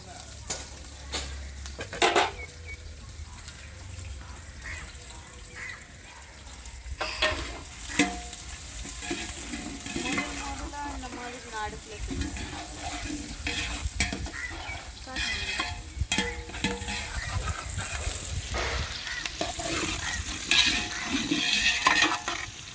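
Onions fry and get stirred in a pot for chicken biryani, a quiet sizzle broken by scraping stirs and utensil clinks, with chickens clucking faintly in the background.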